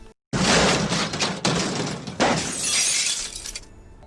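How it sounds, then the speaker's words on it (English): A loud crash bursts in, followed by a long spray of shattering, tinkling glass as a house is struck, with a second heavy impact partway through and debris settling before a quick fade. "There was a crash. The house rocked. Broken glass tinkled."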